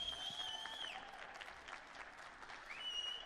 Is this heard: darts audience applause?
yes